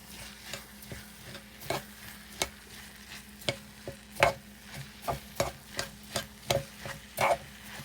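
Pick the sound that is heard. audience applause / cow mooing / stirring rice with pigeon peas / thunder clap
stirring rice with pigeon peas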